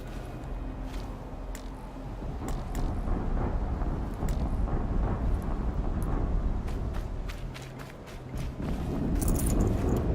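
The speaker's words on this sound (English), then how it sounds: "Explosion." Explosions in the video game Horizon Zero Dawn rumble as sustained deep booms with crackling debris and sharp transients over about ten seconds, loud and close.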